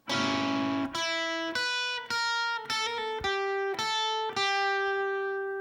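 A clean guitar plays a short bluesy, jazz-tinged E blues lick: a strummed chord followed by several picked notes and double-stops, ringing clearly and close.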